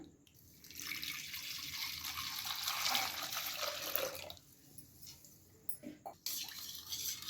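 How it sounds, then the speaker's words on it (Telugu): Water from a small glass is poured into pani puri masala, a faint close trickle and splash that builds, pauses, then comes in brief spurts. "దీనిలోకి ఇలా చిన్న సైజ్ గ్లాస్ అంత వాటర్ని యాడ్ చేసుకుందాం"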